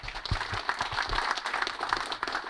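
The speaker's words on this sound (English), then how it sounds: "So a round of applause for Greg, please." Audience applause at the 2024 CDXC ham radio convention, a steady wash of many hands clapping at moderate volume, continuous throughout with no voices.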